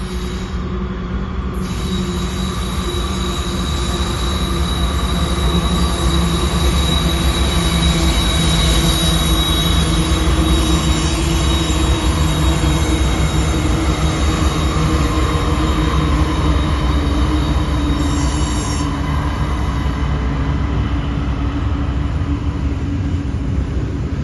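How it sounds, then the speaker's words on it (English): A long freight train rolls past on the Spiral Railway near Field in the Canadian Rockies, a loud continuous rumble of wagons with high, sustained wheel squeal throughout. "I'm not going to wait for this train to come through. It's probably a couple of kilometers long"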